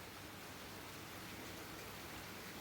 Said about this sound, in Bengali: বাইরে হালকা হালকা বৃষ্টি হচ্ছে